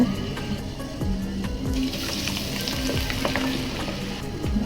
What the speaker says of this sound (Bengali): এই যে জলপাই তো দিয়ে দিচ্ছি আর এদিকে দেখো তেলটাও মোটামুটি গরম হয়ে গেছে